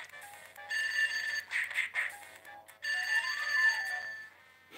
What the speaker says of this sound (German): Telefon, Telefon.